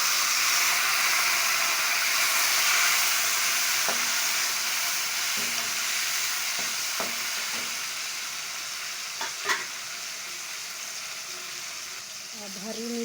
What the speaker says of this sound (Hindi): इसके बाद टमाटर